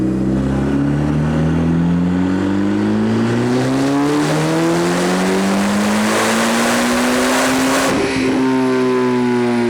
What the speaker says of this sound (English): let's get the car warmed up and let's do some dyno runs. Here's JB4 Map 1 on 93 octane.